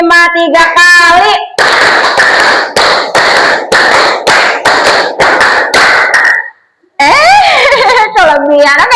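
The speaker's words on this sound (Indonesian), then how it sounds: "Tepuk 5 3 kali." A class of students claps a practiced rhythmic pattern in unison, several bursts of sharp, loud hand claps in a regular beat, with children's voices before and after the clapping and a brief pause near the end.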